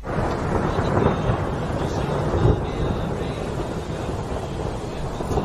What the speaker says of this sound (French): ils furent surpris par une forte pluie